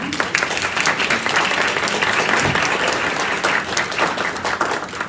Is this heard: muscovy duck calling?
no